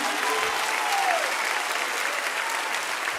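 A church congregation applauds during a Sunday worship service, a dense and steady wash of clapping that fills the room throughout, with no speech over it.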